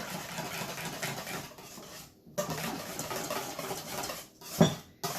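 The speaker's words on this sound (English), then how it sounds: "I'm going to whisk it." Eggs with ground Malabar pepper whisked in a bowl, a quick continuous rattling clatter of the whisk against the sides, close and steady with two brief pauses and a sharper knock near the end.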